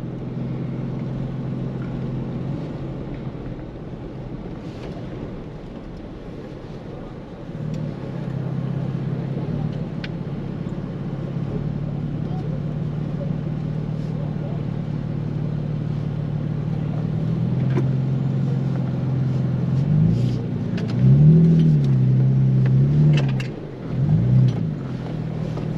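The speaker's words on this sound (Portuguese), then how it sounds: "o carro sobe tudo" A new gasoline Toyota SW4 V6 climbs a sand dune at Duna do Ogro in Sagi, Rio Grande do Norte, its engine a steady low drone with wind that swells into harder revving near the end, under faint voices.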